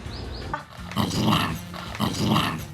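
An angry dog growling up close, in two rising, rumbling snarls with a short whine at the start.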